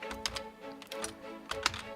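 Keys tapped on a computer keyboard while nudging a soju bottle label layout in PDF software, in quick irregular bursts of close, crisp clicks with brief pauses between.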